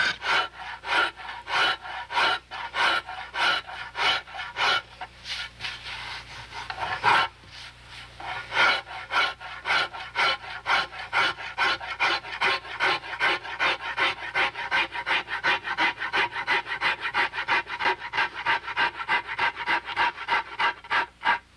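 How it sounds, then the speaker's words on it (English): A fine rasp files carved wood in rapid, even rhythmic strokes, close and loud, with a short pause midway before the strokes resume faster; no one speaks. "Fine rasping"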